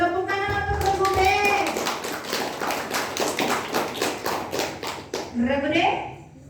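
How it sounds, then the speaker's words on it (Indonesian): Children clap for quiz team B at a Ramadan school quiz competition, a brief burst of scattered hand taps mixed with kids' voices, with talk at the start and end. "Tepuk tangan untuk regu B."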